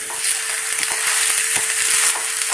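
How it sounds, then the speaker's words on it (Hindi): Peanut powder is being stirred into sabudana khichdi frying in a pan, with a close, steady sizzle and a series of quick spoon scrapes and knocks, and no voices. "बीच में हम अपना जो फल्लीदाना का पाउडर था वो डालेंगे और अच्छे से मिक्स कर लेंगे"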